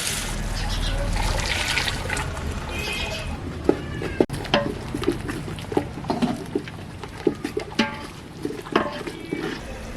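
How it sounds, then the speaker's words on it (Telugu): Strained jaggery syrup pours into a pan while making ariselu, a sweet for Sankranthi. A soft liquid wash is broken by small splashes and knocks, with voices in the background. "వడపోసిన మనం బెల్లం పానకం ఇందులో వేసేస్తాం"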